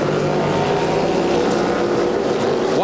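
A Trans Am Series race car engine at Monterey in 2001 gives a continuous loud roar with a steady pitch throughout, no voices over it.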